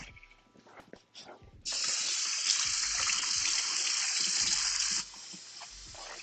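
Vegetables are rinsed under a running kitchen tap: after a few light clatters, a loud, steady gush of water starts suddenly, runs for about three seconds, then cuts off abruptly.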